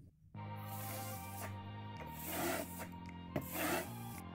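A steel trowel rubs and glides over wet decorative silk plaster on a wall in close, scraping strokes, with a faint hum underneath and a few brief louder swipes.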